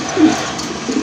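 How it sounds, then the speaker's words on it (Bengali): A pair of good-quality racer pigeons coo softly in a loft, with a couple of low, rolling coos rising from steady background noise, close by and not very loud. "ভালো মানের এক জোড়া রেসার কবুতর"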